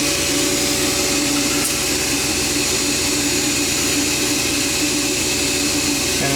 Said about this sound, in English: And we just got a small vacuum cleaner